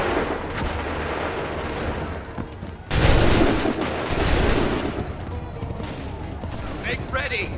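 Musket volley in Assassin's Creed 3 battle, a sudden loud massed discharge that erupts after a quieter stretch and rumbles on for over a second before easing into lingering battlefield noise and shouts.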